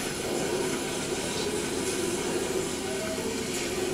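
A train rumbles and hisses steadily in the Jedi: Fallen Order game, a continuous low mechanical roar with airy noise on top, faint and unbroken.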